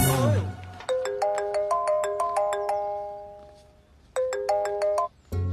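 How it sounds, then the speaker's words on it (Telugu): A mobile phone rings for an incoming call with a bright melodic ringtone of quick repeated chiming notes, played twice with a pause between, after a short burst of another sound at the start. "ఫోన్ వచ్చిందంట"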